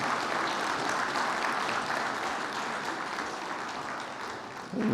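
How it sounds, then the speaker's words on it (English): A seminar audience applauds the panelists on digitalization in the Caribbean, with a steady, even wash of clapping throughout and a brief louder burst at the very end. "I think we should give the panelists and Michelle a wonderful round of applause."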